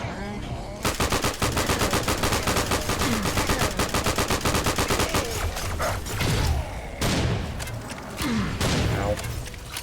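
Gunfire from the first-person shooter Serious Sam, a loud, nearly continuous rapid stream of automatic shots over ten seconds, with brief pauses and heavier thumps near the end.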